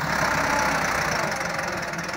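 A 2019 model 385 tractor engine runs steadily and loudly close by, a continuous rumbling drone with a slight knocking texture and no voices over it.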